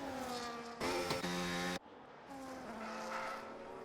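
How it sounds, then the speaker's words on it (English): Several race cars in a racing video game round Monaco's first corner, their high-pitched engines whining and shifting pitch as they pass close by in a continuous, loud buzzing stream with brief gear changes. "So you can hear as the cars are clouting the first corner."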